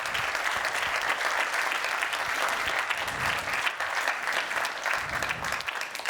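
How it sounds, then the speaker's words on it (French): Audience at an electricity-sector conference welcome session applauding Christine Goubet-Millau, a full, steady round of clapping from a large room, continuous and even throughout. "je pense que ces applaudissements saluent à la fois ton engagement"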